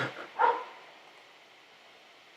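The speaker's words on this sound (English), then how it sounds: "that's my puppy calling me." A Belgian Malinois puppy gives a single short yelping bark at a distance, faint over a steady background hiss, followed by quiet.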